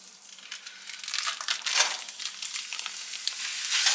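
One pound of sausage sizzles and crackles steadily in a hot pan, a bright continuous frying hiss with occasional louder pops, close and alone without any talking.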